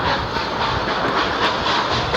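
A train running in the Roblox game Choo-Choo Charles makes a continuous loud rumble with a rhythmic rattle, and no voices are heard.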